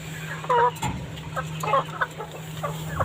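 Egg-laying hens on a poultry farm cluck and squawk in short, close bursts, with one louder cackle near the start, over a steady low electrical hum from the barn.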